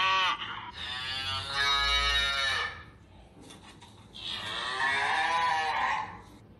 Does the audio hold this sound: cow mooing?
yes